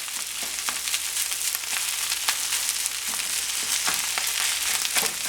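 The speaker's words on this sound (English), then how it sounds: "Start heating that rice through, okay? We'll just get it broken up." Spam and mushroom fried rice sizzles steadily in a hot pan, a continuous close hiss of frying broken by occasional light scrapes and crackles, with no one talking.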